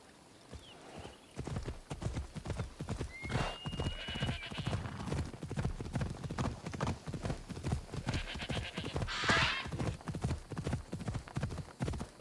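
A horse gallops in Assassin's Creed Odyssey with a rapid, continuous clip-clop of hooves, close and prominent, punctuated by a whinny or two and a few swooshing game effects.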